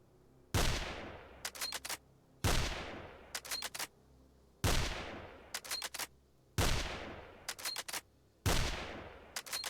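A DP 7.62 machine gun in a video game fires five evenly spaced loud single shots, each with a long ringing decay, each followed by a quick burst of mechanical clicks from the action.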